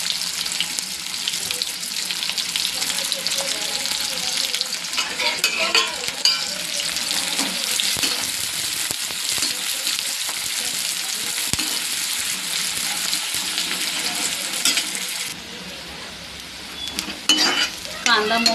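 Chopped onion frying gently over low heat in a pan for a spiced pointed gourd (parwal) bhaji, giving a steady close hiss and sizzle throughout that softens slightly near the end, with no voices.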